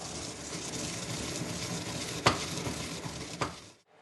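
Toasted fennel seeds are ground in a mortar and pestle, a continuous gritty scraping and crunching up close, broken by two sharper knocks of the pestle before it stops.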